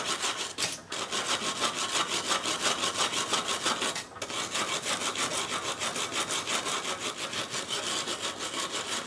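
A power tool with a wire brush scours rust off a Cub Cadet LGTX1054 mower deck, giving a loud, continuous abrasive grinding with a steady pulsing texture and two brief dips, with no talking.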